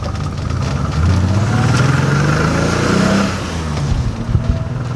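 A BMW E28/E30 with a fuel pump problem pulls away from a dead stop nearby, its engine rising in a loud climbing rev, then easing off before picking up again.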